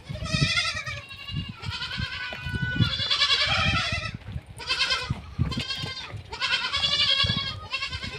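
Several goats bleat repeatedly as they are let out to graze, overlapping loud calls close by, with short pauses between bursts.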